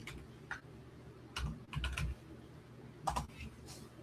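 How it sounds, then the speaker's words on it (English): Bursts of typing on a computer keyboard, with short clusters of quick key clicks separated by pauses, fairly quiet and close in a room with a faint background hum. "I'm going to type that in and put that on the screen for y'all."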